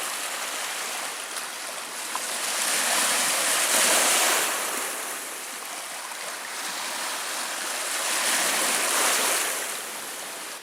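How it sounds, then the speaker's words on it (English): Waves rolling onto a Lake Superior-style lake shore in the Porcupine Mountains, a steady rushing wash that swells twice into louder surges, with some wind noise on the microphone and no talking. "look at the waves rolling in."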